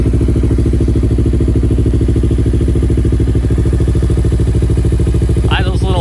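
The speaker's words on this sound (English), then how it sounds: "Idle's a little high because it is winter." A 2008 Kawasaki Ninja 250, carbureted, idles a little high on a winter day, a loud close steady pulsing thrum with a brief voice near the end.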